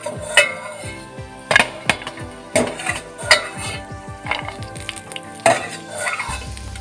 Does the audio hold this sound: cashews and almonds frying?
yes